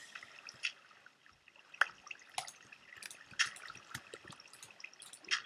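Water drips in a Minecraft cave, scattered sharp droplets falling at irregular intervals, fairly close and faint against near silence.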